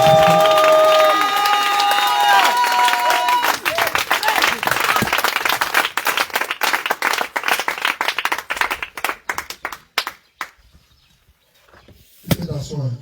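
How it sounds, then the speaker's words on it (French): Church congregation at a morning worship service applauding loudly, dense clapping with cheers, fading out near the end, with singing and voices at the start. "Acclame fortement puissamment"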